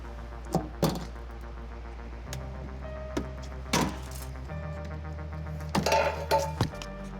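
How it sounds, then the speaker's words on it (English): A small flathead screwdriver pries plastic push rivets from the rear fascia of a 2016 Honda Civic, giving a handful of sharp, scattered clicks and clinks over a faint steady hum, with no talking. "We're now going to remove 7 push rivets from the fascia using a small flathead screwdriver"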